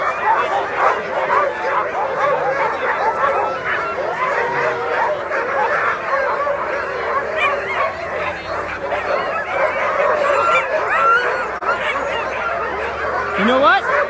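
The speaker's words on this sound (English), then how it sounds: "get all these dogs hitched up in the team" Sled dogs bark, yip and whimper excitedly while being hitched into their team at the Iditarod start in 2023. The yapping is dense and continuous, close by, with people talking throughout.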